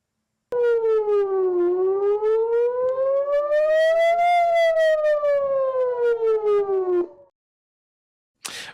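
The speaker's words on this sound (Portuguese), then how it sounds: "a gente deve ter aqui as imagens das sirenes aéreas tocando" Air raid sirens wail in Lebanon during an ongoing bombardment, a loud rising-and-falling civil defense howl that sweeps up and down steadily for several seconds before cutting off, with a brief noise burst at the end.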